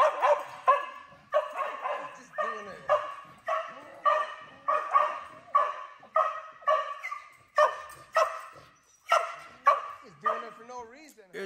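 A reactive dog barks repeatedly in a fast, insistent rhythm, sharp barks mixed with higher yips and whines, close and fairly loud, with no pause across the whole stretch.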